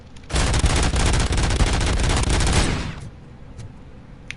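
Rapid automatic gunfire hammers at a turret in RoboCop: Rogue City, a loud dense burst lasting over two seconds before tapering off into a couple of faint trailing shots.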